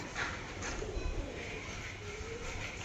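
Soft coos from a Kalshira male and a Kaldama-type female pigeon murmur in the background amid steady outdoor noise, with some faint indistinct voices mixed in.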